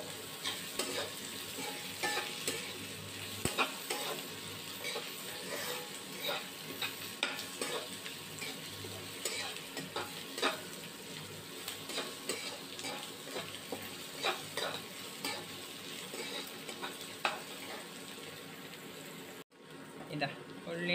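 Onions and curry leaves sauté in a pan with a steady, close sizzle and frequent scraping stirs of a utensil against the metal, continuing throughout with a brief dropout near the end.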